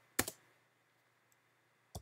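Two short bursts of computer keyboard clicks as a command is typed into a terminal, close and crisp, separated by a quiet pause.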